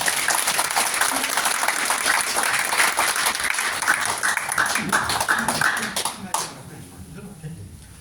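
Audience applause welcoming a guest speaker to a Seoul branch lecture, dense steady clapping filling most of the clip before cutting off sharply, leaving a quieter room with faint voices.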